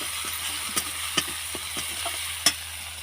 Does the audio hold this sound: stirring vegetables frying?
yes